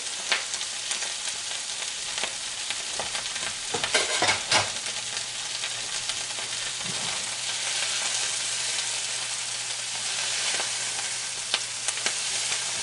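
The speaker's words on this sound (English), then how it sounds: "I'll just give this a stir." Kale and garlic sautéing in a pan, stirred with steady scraping and a light sizzle throughout, with a few louder clattering strokes in the middle.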